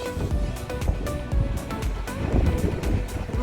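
Good-sized ocean waves break and wash along a Hatteras Island beach on the Mountain to Sea Trail, a loud continuous surf roar mixed with wind buffeting the microphone and no speech.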